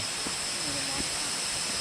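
Steady rushing hiss of a waterfall near Phu Chi Fa in Chiang Rai during the rainy season, an even wash of water noise throughout with faint voices in the background.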